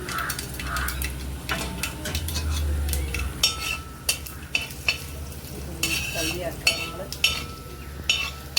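Masala for urulan bonda stirred and fried in a pan, with a steady sizzle under repeated sharp scrapes and clinks of a metal spoon against the pan, close up and moderately loud.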